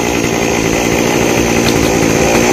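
A chainsaw runs loud and steady, close by, cutting branches high in a 26-metre golden oak tree, its engine a continuous buzzing roar with no voices.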